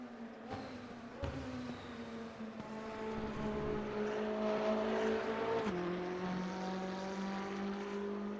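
A McLaren 570S race car in the RaceRoom racing game, heard from outside as its engine drones steadily past, pitch climbing through a gear before dropping at a shift, then holding a constant tone, moderately loud.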